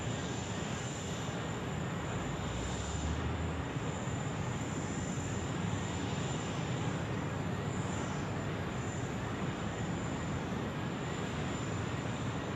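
Singapore Airlines flight 211 approaching Sydney Airport from the north makes a distant, steady jet rumble and roar, faint and continuous with no distinct peaks, heard from a plane-spotting spot near the airport.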